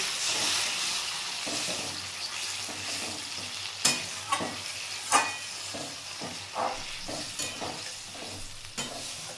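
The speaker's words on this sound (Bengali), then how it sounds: "এবার আমি অল্প জল দিয়ে দিচ্ছি এর মধ্যে।" Water poured into sizzling morola fish curry in a pan, a soft hiss and bubbling followed by repeated scraping stirs and clinks, close and fairly quiet with no talking.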